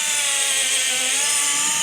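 A power drill bores into a wooden wall stud while guitar wall mounts are installed, giving a loud, steady grinding whine with a sustained motor pitch, close up and unbroken for the full length.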